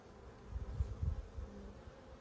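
Honey bees hum around a hive, a faint low buzz that swells briefly in the middle and then settles, distant and soft with no voices.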